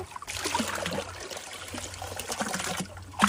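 Water from a small pond in the Sundarbans forest pours and trickles steadily as the pond is drained, in a short, moderately close splashing burst.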